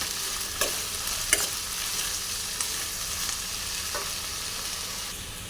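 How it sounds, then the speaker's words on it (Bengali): Capsicum sizzles in hot oil in a pan while fried rice is being cooked, a steady close hiss with a few sharp scrapes and clinks of stirring spaced through it. "এবার দিয়ে দেব ক্যাপসিকামটাও দিয়ে দিলাম। এটাকেও ভালো করে ভেজে নেব।"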